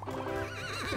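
A pony whinnies in a horse-riding video game, a close, clear, quavering neigh lasting about a second over a soft background of game music.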